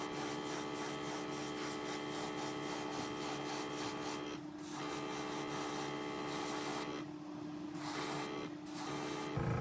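An airbrush paint gun sprays paint onto a fishing lure body, producing a continuous airy hiss with a steady compressor-like hum underneath, briefly interrupted by short pauses in the spray.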